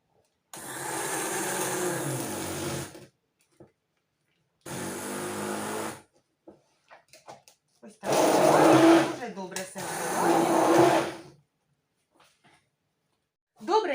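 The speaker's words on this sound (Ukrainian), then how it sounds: "І все це збиваємо блендером погружним." An immersion blender mixes a homemade chocolate-hazelnut spread in two bursts with a steady whirring drone, stopping briefly between them, then two louder, heavier bursts follow.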